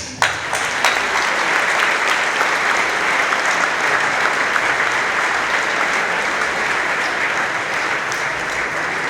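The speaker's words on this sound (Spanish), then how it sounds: "us heu guanyat aquest aplaudiment" Sustained applause from a large audience, steady and loud throughout, with dense clapping filling the whole stretch.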